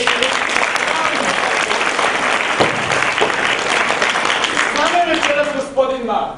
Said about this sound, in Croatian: Molimo vas, pozdravite Mašu i aplauzom podijelite.